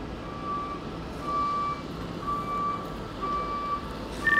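A truck reversing while backing a container, repeated high reversing beeps at a steady rhythm over a low idling engine rumble, moderately distant with no talk.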